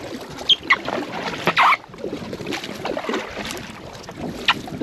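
Packraft paddle strokes splashing through water in wet, windy conditions, a few distinct splashes standing out over steady wind noise and lapping water, close to the microphone with no talking.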